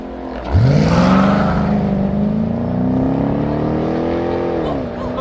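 A Corvette C7 sports car at a supercar meet accelerates hard, its engine note rising into a loud, sustained roar that climbs in pitch, then dips briefly as it shifts near the end.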